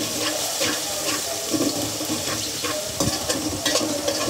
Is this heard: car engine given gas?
no